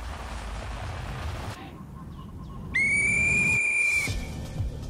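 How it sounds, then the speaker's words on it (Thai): A referee's whistle signals the start of a football match with one long, loud, shrill blast that cuts in midway, sitting over low crowd and background noise. "เสียงนกหวีดดังขึ้นเป็นสัญญาณของสงครามครั้งนี้ได้เริ่มต้นขึ้นแล้ว"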